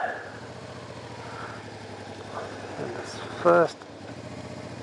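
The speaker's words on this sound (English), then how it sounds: "Now I'm going to quietly work my way through the gears" A 1989 Honda NTV600 Revere motorcycle engine idles low and steady close by as the rider eases through the gears, with a brief louder rev near the end and someone talking over it.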